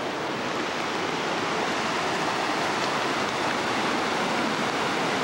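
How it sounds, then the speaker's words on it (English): A river flows outside caves, a dense, steady rushing wash that fills the whole clip without pause, loud and close, with no voices. "we're out at the river again"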